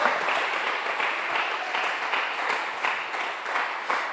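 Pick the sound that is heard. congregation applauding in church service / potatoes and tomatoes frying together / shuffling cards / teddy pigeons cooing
congregation applauding in church service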